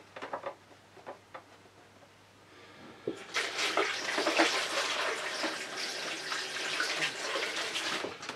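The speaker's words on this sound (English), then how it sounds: "Give my hands a quick wipe and a wash." After a few soft clatters, a tap opens and water gushes steadily as hands are rinsed after acrylic painting, a continuous close splashing rush lasting several seconds.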